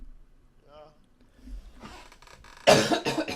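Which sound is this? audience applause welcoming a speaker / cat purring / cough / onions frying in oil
cough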